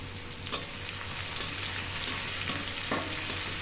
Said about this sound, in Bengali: একটু ভেজে ৬টি বড় রসুন কোয়া থেতো করে দিলাম।